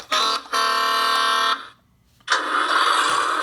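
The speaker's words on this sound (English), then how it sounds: "It just honks." A Hess 2017 toy dump truck sounds its electronic horn: two loud, close, buzzy honks, the first short and the second held longer, then a brief pause before a rougher, noisier burst of toy sound.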